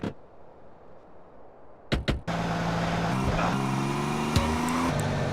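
A car driving in GTA San Andreas, with a couple of sharp bumps before a steady, fairly loud engine drone starts and holds with slight shifts in pitch.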